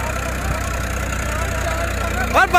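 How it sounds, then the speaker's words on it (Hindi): Tractor engine idling and refusing to shut off, a steady low chugging rumble close by for the whole stretch, with a brief voice breaking in at the end. "पर इसमें बंद नहीं हो रहा ट्रैक्टर"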